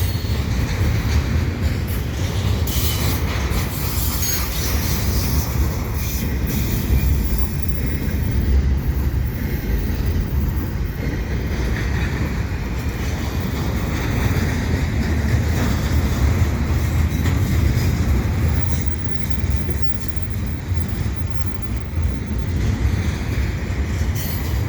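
A CP freight train carrying TTC streetcar LRVs rolls past at Dorval, its steady loud rumble of wheels on rails continuing throughout with occasional squeals and rhythmic clacking.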